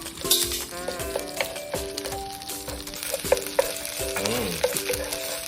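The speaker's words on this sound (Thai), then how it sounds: "ใส่น้ำครับ แล้วก็ผัดต่อ" Spicy crocodile meat stir-fries in a pan, a steady sizzle under repeated scraping and clinking strokes of a utensil, close and continuous.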